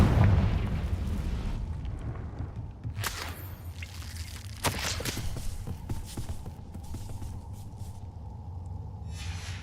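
A Confringo spell blast from Hogwarts Legacy opens with a deep booming burst that fades into rumble, followed by a few sharper crackling impacts in the middle and a low sustained hum, with no talk.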